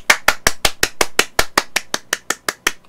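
A single person claps in a steady, brisk rhythm, about sixteen sharp, close claps in quick succession, each with a short ring-off and no other sound around them.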